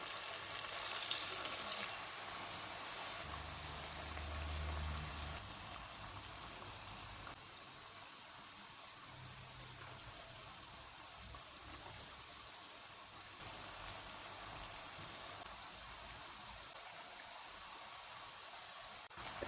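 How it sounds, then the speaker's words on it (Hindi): Potato snacks deep-fry in hot oil on a medium flame, a steady, close hiss and crackle of bubbling fat that holds evenly throughout with no voices. "अब हम इनको फ्राई कर लेते हैं। ऑयल को मैंने गर्म होने के लिए रखा हुआ था,"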